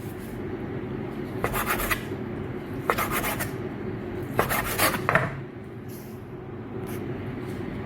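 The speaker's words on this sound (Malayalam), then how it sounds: "ഇതേപോലെ നീളം പീസാണ് നമ്മളിതിൽ കട്ട് ചെയ്തെടുക്കേണ്ടത്" A knife slices beef into long pieces on a board, several short scraping cuts in irregular bursts over a steady background hum, with occasional light taps.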